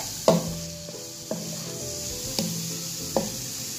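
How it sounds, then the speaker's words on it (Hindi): Marinated chicken frying in hot oil in a pan, with a steady sizzle throughout and four sharp clinks from a utensil stirring at intervals. "इसमें मैंने मैरिनेटेड चिकन जो है वो ऐड कर दिया। मैरिनेटेड चिकन को फ्राई करना ऑयल में।"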